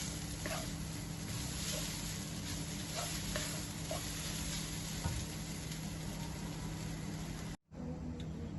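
Lontong dish being stirred in a pan until dry, a steady sizzling scrape with soft repeated stirring strokes over a constant background hum, close and continuous.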